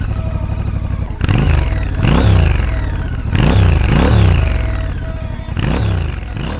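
A 2019 Triumph Scrambler 1200 XE motorcycle engine revs repeatedly in loud bursts, rising and falling several times over a steady rumbling idle, close by with no voices.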